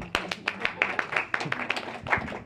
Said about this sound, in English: can we do a special round of applause for these guys?